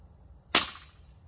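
A single sharp crack from a Diana Stormrider .22 rifle fired at a target, close and sudden with a short decaying tail, alone in otherwise quiet surroundings.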